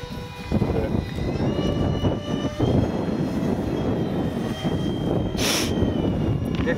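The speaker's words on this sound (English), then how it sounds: "Takes a lot of power to get this plane up to the top." A radio-controlled model Me-262 jet plane flies overhead and climbs under heavy power, giving a sustained, loud whining engine drone that rises and shifts in pitch as it passes through the air.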